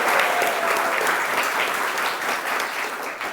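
A studio audience on an Indonesian political talk show claps at a steady level throughout, a full, even burst of applause heard alone without speech.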